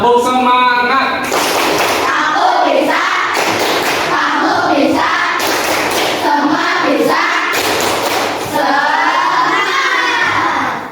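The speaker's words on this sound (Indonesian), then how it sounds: "Biar belajarnya semangat, mari tepuk semangat." Schoolchildren perform a rhythmic clap-and-shout chant together, loud bursts of rhythmic claps and thumps alternating with group shouting in repeated cycles, with an adult voice briefly leading at the start.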